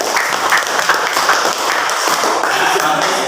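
Schoolchildren in a classroom applaud a group's work, steady dense clapping lasting a few seconds, close and fairly loud with no break.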